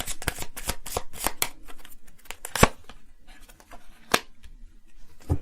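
Tarot cards are shuffled and drawn by hand, close and crisp: quick bursts of riffling and sliding cards, then sparser single snaps and flicks as cards are pulled out.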